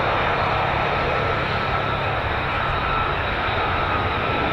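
An F-15 or F-35 fighter jet arriving at RAF Lakenheath, its engine roaring as a constant broadband rush that holds loud and steady for the whole stretch, with no voices.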